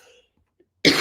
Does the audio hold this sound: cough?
yes